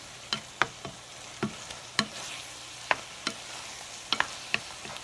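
Scrambled tofu frying in a pan, with a soft steady sizzle under scattered sharp scrapes and taps as a utensil stirs it, close and fairly quiet.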